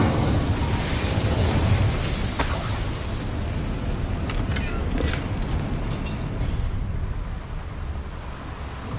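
Incendio fire spell cast in Hogwarts Legacy, a roaring burst of flame that swells into a dense, continuous rushing blaze lasting several seconds before slowly thinning out.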